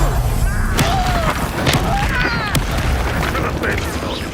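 Confringo fire blast spells in the Hogwarts Legacy game, loud booming bursts and crashing impacts that come in quick succession amid busy combat effects, with a voice speaking over them.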